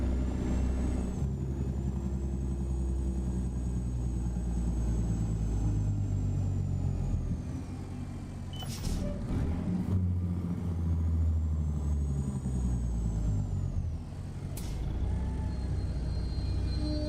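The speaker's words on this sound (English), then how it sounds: "Those brakes sound so good on such an old truck." An old truck fitted with a CAT 3406B engine rumbles steadily in a trucking simulator game, with two sharp air-brake hisses bursting over the low engine drone.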